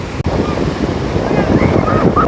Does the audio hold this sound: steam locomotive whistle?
no